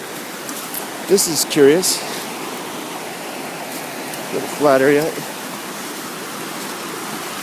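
Steady broadband rush of a forest stream flowing at low water through woodland in Japan, a continuous moderate wash running beneath two short bursts of someone talking.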